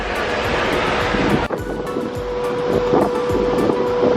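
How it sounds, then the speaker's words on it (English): Steady open-air wind rushes across the stern deck of the Royal Caribbean cruise ship Allure of the Seas at sea, a constant loud roar over a low rumble. "You're on the back of the ship. It's open air. It's a nice breeze."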